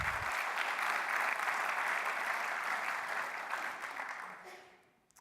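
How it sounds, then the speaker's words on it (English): Sustained applause from an audience at a business plan competition greeting a guest speaker, dense steady clapping that holds strong for several seconds before thinning and fading out at the end. "Let's give Derek a round of applause."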